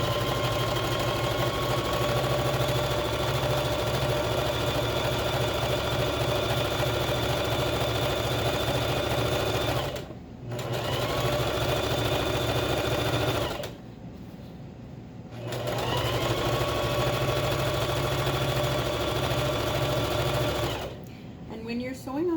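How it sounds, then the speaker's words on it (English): Steady whirring drone of a sewing machine stitching ribbon onto a skirt, running in long bursts with two short stops, loud and close with a voice talking over it. "And when you're sewing on the ribbon,"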